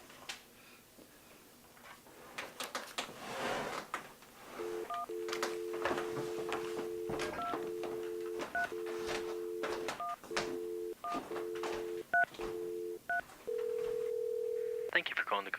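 A telephone being dialed, with a series of clear touch-tone beeps in a steady rhythm and a longer tone at the end, heard close and alongside some background voices and clatter.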